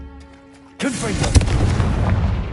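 A Confringo blasting curse explodes in Hogwarts Legacy with a sudden loud burst that rolls into a rumbling, crackling blast. Quieter game ambience comes just before it, and a voice speaks around it.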